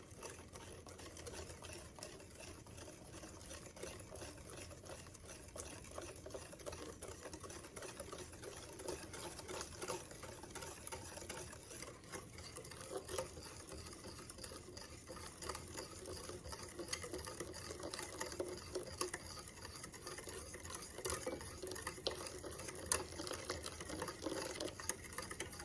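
Continuous brisk whisking and stirring of a hot milk and egg nog mixture in a pot, a steady scraping patter with liquid sloshing that runs evenly throughout, close and moderately quiet.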